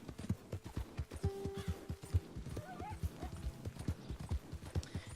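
Horse hooves clip-clopping at a steady trot in the video game Red Dead Redemption 2, a fast, even rhythm of close hoofbeats with faint game sounds around them and no talk.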